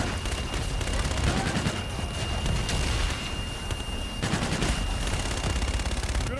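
A fire strike on a marked target in the Call of Duty: Infinite Warfare campaign: a dense, sustained barrage of rapid gunfire and rumbling impacts, loud and continuous throughout.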